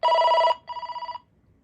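A loud electronic ring from a Panasonic KX-TCM422 cordless phone at high ringer volume plays in two bursts, the first steady and the second warbling rapidly, then stops, leaving quiet.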